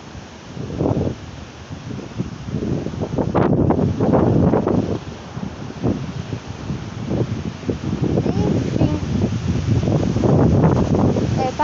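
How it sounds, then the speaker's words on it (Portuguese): Strong gusty wind outdoors on a dark street before a storm, buffeting and roaring against the microphone in rising and falling surges, with a voice speaking briefly. "Tá ventando meio forte."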